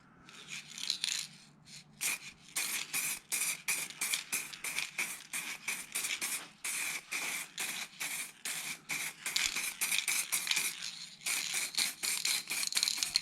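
An aerosol can sprays top coat onto a UFO model in a quick run of short, close hissing bursts separated by brief gaps, with a few longer sprays near the end.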